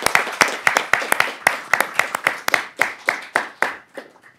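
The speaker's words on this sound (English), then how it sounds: "Ladies and gentlemen, a round of applause for our judges and moderator." An audience at a debate final claps for the judges and moderator: a handful of distinct, sharp hand claps in an uneven rhythm, close and moderately loud, thinning out and fading at the end.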